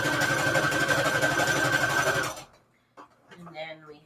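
A sewing machine runs steadily as it stitches Christmas fabric scraps onto a junk journal cover. The loud, even mechanical whir stops abruptly after about two seconds, and a person starts speaking shortly after.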